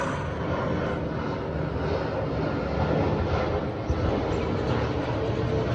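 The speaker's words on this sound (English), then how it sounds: "another plane flying over. As it always is here." An airplane flies overhead, producing a continuous low, rumbling engine roar at moderate distance that stays steady and slightly swells, with no talking.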